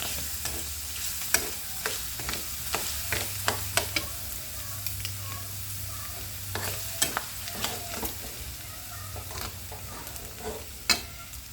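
Minced garlic fries over high heat in a pan for pork binagoongan, a soft steady sizzle punctuated by the scrapes and clicks of stirring, with no talking.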